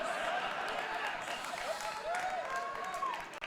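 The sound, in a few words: audience applause and clapping at beer awards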